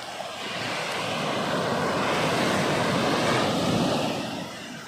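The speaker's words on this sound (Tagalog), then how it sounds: "Lakas ng alon." Strong waves roar steadily as a dense, rushing wash of surf that swells slightly and then eases.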